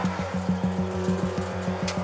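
White pickup truck fleeing police at high speed on country roads, its engine droning loudly with a steady pulsing rhythm and tire noise, close and continuous without talk.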